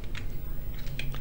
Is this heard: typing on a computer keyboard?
yes